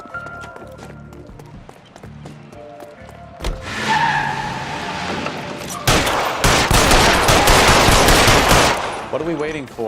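A police chase in LA Noire erupts into gunfire: after quiet shouting, sharp shots crack out, then a loud sustained burst of rapid fire rattles on alongside engine and tire noise, with voices shouting over it.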